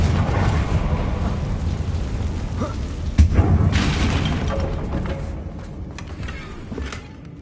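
A Confringo fire-blast spell explodes in Hogwarts Legacy with a sharp boom midway, set against a steady low rumbling roar that fades slowly afterward.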